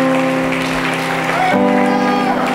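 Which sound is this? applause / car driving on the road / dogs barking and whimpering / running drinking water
applause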